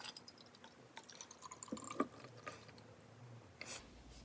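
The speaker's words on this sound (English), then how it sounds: "I'm just going to fill the bottle the rest of the way up with this aloe vera." Aloe vera is poured from a container into a spray bottle, giving a soft, uneven trickling and dripping with small liquid splashes and gurgles, fairly quiet and close.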